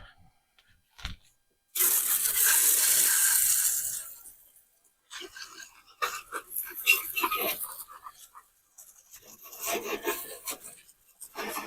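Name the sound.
water spraying while cleaning a Troy-Bilt mulching mower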